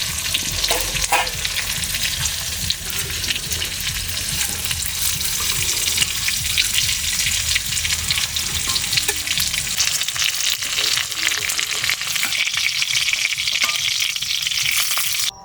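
Loud, continuous crackling of banana flower koftas frying in hot oil, a dense hiss that fills the whole stretch with no voices.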